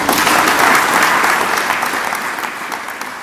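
Sustained audience applause fills a hall at a church leadership conference, a dense even wash of many hands that slowly tapers off.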